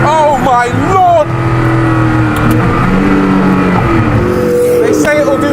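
A Hennessey Venom F5 hypercar accelerates hard in second gear, its engine note rising loud and close throughout, with excited voices talking over it.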